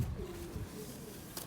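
Homing pigeon back home after ten days, giving a single low, soft coo up close with faint background noise.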